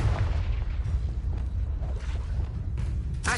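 Booming spell explosions from Hogwarts Legacy, the Bombarda blast rumbling with heavy low-end thuds that run continuously through the moment, ending in a sharp burst at the close.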